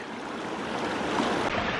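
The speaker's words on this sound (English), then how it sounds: "Beautiful little mountain creek." A small mountain creek in the Colorado woods flows steadily beside a footbridge, a close, continuous broadband rush of water with no voices.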